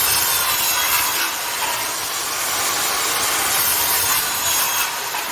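A Makita 5806B circular saw cuts through wood with a loud, continuous hissing whine that holds steady for several seconds, heard close and alone.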